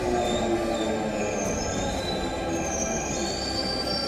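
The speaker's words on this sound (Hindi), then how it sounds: "ये है देश की पहली ड्राइवरलेस मेट्रो ट्रेन।" India's first driverless metro train running in Delhi, a continuous loud rumble of wheels on rail with steady high-pitched squealing tones throughout, heard from on board with no voices.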